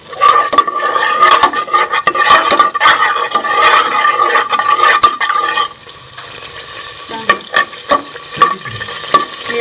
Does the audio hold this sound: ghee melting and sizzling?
yes